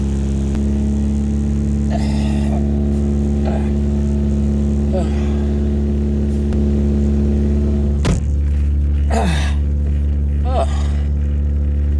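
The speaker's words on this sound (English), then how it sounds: "Man, it's got a high cold idle." A 1988 Toyota MR2 AW11 engine idles steadily on a high cold idle with a constant low hum, while a person speaks intermittently over it and a brief clunk sounds partway through.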